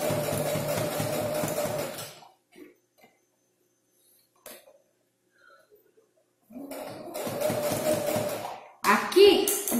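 A sewing machine stitches bias binding along a curve, running in steady bursts at the start and end with a quiet pause between, moderately close.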